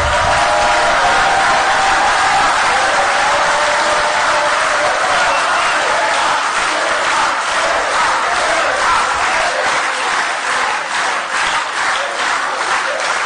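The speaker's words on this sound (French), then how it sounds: "maintenant, je vais vous demander d'applaudir Léa Balagène-Mariki," A large rally crowd at an ecology campaign meeting applauds the campaign director, a loud sustained wash of clapping with cheering mixed in that settles into rhythmic unison clapping toward the end.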